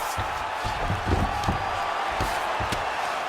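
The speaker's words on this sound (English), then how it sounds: "big pop from the crowd as they get back to their feet" A video-game arena crowd in UFC 5 roars in a steady, broad wash during a Magomed Ankalaev vs Jon Jones bout, with sharp thuds and swells of cheering rising and falling throughout.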